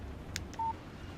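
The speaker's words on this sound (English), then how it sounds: "Text message from Barry." A phone text message alert in the Alan Wake video game, a brief clicky chirp followed by a short, clean electronic beep tone over faint background ambience.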